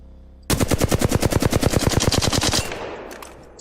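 A full-auto weapon in the video game Apex Legends fires one sustained burst of about twenty rapid, evenly spaced shots lasting two seconds, loud and close, then a reverberant tail fades out.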